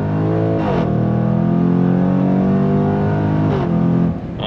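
A 2024 Jaguar F-Pace SVR accelerates on throttle with a loud, sustained engine roar, two quick shifts breaking the climb, heard close with no talk.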